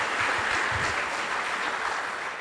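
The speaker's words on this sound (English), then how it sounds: "yeah, you can applaud if you want to." An audience at a foundation day lecture at IIMK breaks into sustained applause, a dense, steady clatter of many hands clapping that fills the hall with no talking.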